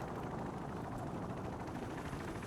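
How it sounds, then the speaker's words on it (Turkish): A helicopter in the video game Call of Duty: Modern Warfare Remastered makes a steady, dense rotor-and-engine drone, loud and continuous with no break. "Helikopter geliyor hadi."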